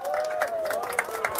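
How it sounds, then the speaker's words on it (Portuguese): A small church group claps for Jesus while lunch is brought to people living on the street, a brief patter of hands and crowd murmur with a voice talking over it. "Palmas para Jesus aí."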